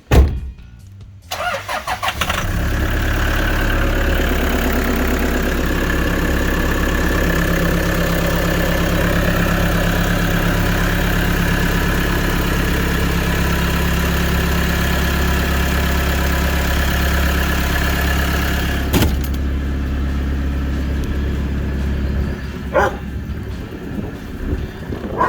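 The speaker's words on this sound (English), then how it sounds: "Give it a cold start and see how we go." A high-mileage Toyota Hiace van engine cold-starts after sitting overnight, then settles into a steady, loud, close idle that runs for about twenty seconds before dropping off near the end.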